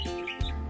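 A pet budgie chirps and warbles in a short, bright burst of song, close and clear.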